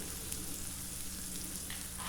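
Tomatoes sizzle and crackle steadily in a hot pan, a soft continuous frying hiss with small pops.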